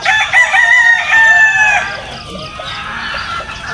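A sweater gamefowl rooster crows nearby, one long loud harmonic crow that fades out, followed by quieter farmyard background noise.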